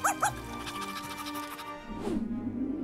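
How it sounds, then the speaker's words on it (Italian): A puppy barks happily in a Barbie and Disney princess Christmas toy play scene: two quick, close yips at the start, then a sustained whining, whimpering tone. "Il cane abbaia felicemente."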